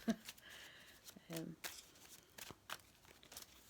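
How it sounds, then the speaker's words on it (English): Tarot cards are shuffled by hand, a quiet string of soft riffling and papery flicks at close range, faint and irregular. "I'm going to shuffle the tarot first"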